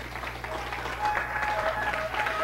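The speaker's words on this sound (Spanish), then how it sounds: "Dale un fuerte aplauso al Rey." A church congregation claps steadily together during a service, a brief, even burst of applause over a low background hum.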